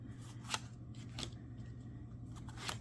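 Soft riffling bursts of cards being shuffled, three or four quick flurries spaced apart over a steady low hum.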